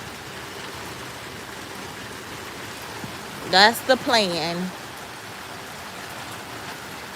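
Rain falls steadily outdoors as a soft, constant hiss, with a person speaking briefly near the middle over it.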